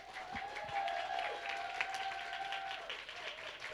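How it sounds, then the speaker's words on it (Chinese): Church congregation applause at an anniversary Sunday service keeps a soft, continuous patter throughout. A sustained tonal hum from music or a held note sits over it. "掌声不断。"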